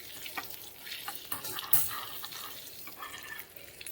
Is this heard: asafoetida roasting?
yes